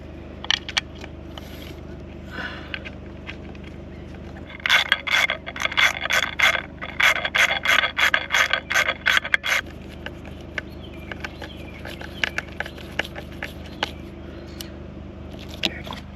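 Bolting a part onto the valve cover of a Mercedes S600 W221 M275 V12 bi-turbo engine produces close, rapid ratchet-like clicking bursts in the middle, with scattered taps and scrapes before and after.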